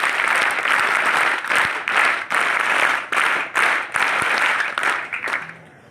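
An audience claps to welcome the Sikar district collector at a scouts and guides event, dense sustained applause in several surging waves that fades out at the end.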